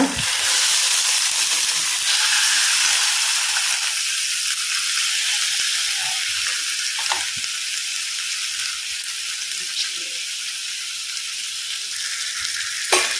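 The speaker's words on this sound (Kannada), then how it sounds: "ಎಣ್ಣೆ ಹಾಕ್ತಾ ಇದ್ದೇನೆ ಸ್ವಲ್ಪ ಕರಿಬೇವನ್ನು ಸ್ಪ್ರೆಡ್ ಮಾಡುವ ನಂತರ ಈ ಮೀನನ್ನು ಫ್ರೈ ಆಗಲಿಕ್ಕೆ ಹಾಕುವ" Fish frying in oil with curry leaves in a pan, giving a steady, loud, close sizzle and hiss throughout with a few faint clicks and no talking.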